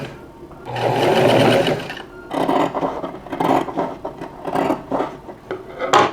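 A sewing machine stitching down fabric on a shirt made from a bed sheet. Two close bursts of whirring, needle-driven stitching are split by a short pause and followed by quick stop-start runs.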